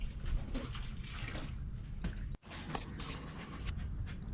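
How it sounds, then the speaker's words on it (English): Water is poured onto dry concrete mix around a fence post, a steady trickling wash heard close with a brief pause midway. "and then adding water for that as well"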